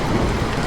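Heavy rain pours outside during a cool May spell in Uttarakhand, a dense, constant hiss and patter on surfaces, loud and close, with no voices.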